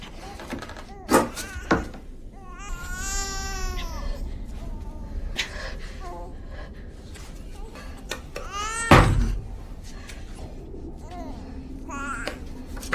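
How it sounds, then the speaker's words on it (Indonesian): An infant's cry rises and falls in several wavering wails, interrupted by loud knocks and thuds like a door being banged, moderately close in a quiet room. "Mendengar bayi itu terus menangis"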